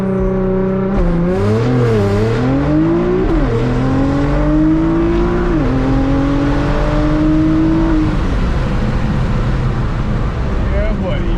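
A 600 WHP Nissan GT-R on launch control, its engine loud and close as revs climb and hold in stepped surges before the launch pulls away, with people talking over it.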